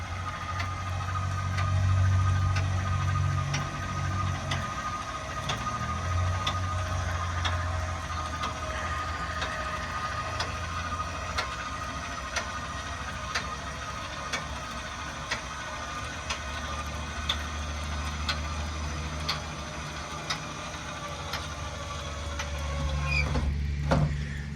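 Electric stabilizer jacks on a 2021 Kodiak 3321BHSL camper retract with a continuous mechanical motor whine and low hum for a long stretch, with faint rhythmic ticking, then stop with a clunk at the end.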